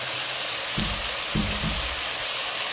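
An onion, garlic and coconut chutney with red chili powder and turmeric sautés in a pan. The frying gives a steady, close hiss, with a few low scraping or stirring sounds mixed in.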